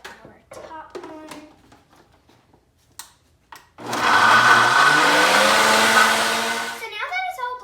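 A countertop blender whirs loudly for about three seconds, blending chopped green onions, ginger, salt and olive oil, after a few clicks and taps while the lid goes on and before a voice speaks.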